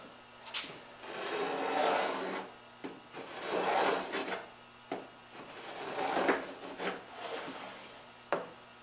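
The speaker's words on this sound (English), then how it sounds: "Remember to keep that fence real tight against the stock as you're making the scribe" A marking gauge knife scribing a line across curly maple, heard as repeated raspy scraping strokes, close and moderately loud, several passes with brief pauses and a sharp knock near the end.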